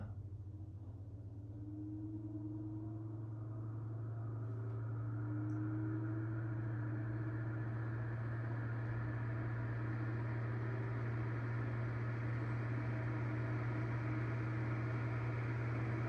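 An electric fan runs at its lowest speed on a transformer speed regulator, giving a constant low motor hum with a soft airy whir, steady and nearby with no voices.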